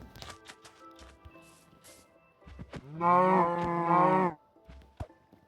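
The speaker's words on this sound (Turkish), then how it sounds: "İki tane inek var." Minecraft cow giving one loud, drawn-out moo over about a second and a half, alone, with faint blocky game clicks and footsteps before and after.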